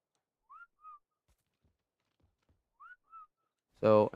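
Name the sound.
player whistling to call beavers in the video game ARK Survival Evolved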